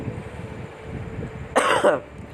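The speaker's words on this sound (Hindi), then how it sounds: "सॉरी, खांसी हो गया है।" A single harsh cough bursts out close to the microphone after a quiet stretch of low room noise.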